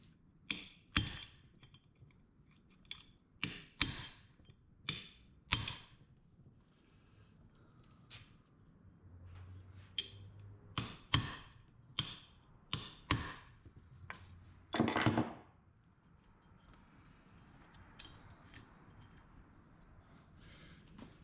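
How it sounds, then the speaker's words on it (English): Sharp metallic taps and clicks come in irregular bursts as a locking washer is bent over on a 2008 Yamaha Raptor 250 engine during a rebuild, close and fairly quiet with pauses between strikes. "Then we gotta take the locking washer and bend it over."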